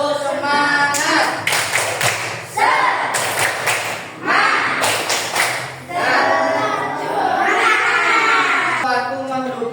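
A group of schoolchildren performing a rhythmic spirit clap, bursts of sharp, loud clapping in quick patterned sets separated by short pauses, with voices chanting along between the bursts.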